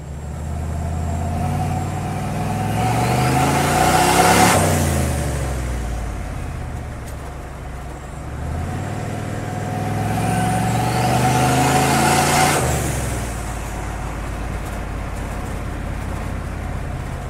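A turbocharged car engine drones and rises in pitch as it accelerates, falls back, then revs up again, steady and loud from inside the vehicle.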